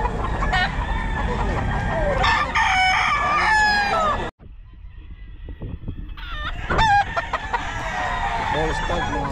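Roosters crow loudly and close by at the Bocaue pet market, with repeated cock-a-doodle-doo calls and clucking, a brief silence midway, then more crowing against background noise.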